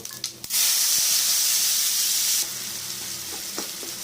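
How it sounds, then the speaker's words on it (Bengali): Onion drops into hot oil with cumin and panch phoron and erupts in a loud, close hiss that holds for about two seconds, then settles to a softer steady sizzle. No voices are heard. "পেঁয়াজটাকে লাল করে একটু ভেজে নেবো"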